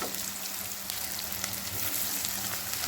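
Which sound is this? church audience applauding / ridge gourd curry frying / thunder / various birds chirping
ridge gourd curry frying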